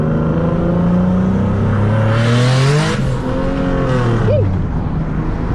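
A loud single-turbo Nissan 370Z Nismo engine revs hard and climbs in pitch through the gears, with a sharp turbo whoosh and brief pitch dips between shifts.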